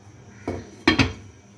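A cooking pot of dal with water and ginger-garlic paste set down on a stove to cook on low flame, giving a soft clunk followed by two sharper metallic clanks close by, with no talk.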